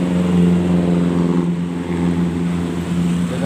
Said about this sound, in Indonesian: Satu grup mungkin truk pasir